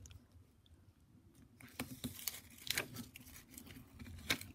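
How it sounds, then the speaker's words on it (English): Washi tape is pulled from its roll and torn. Quiet at first, then a run of sharp ripping, crinkling bursts close by, some louder than others. "Fighting with this washi tape that I hate."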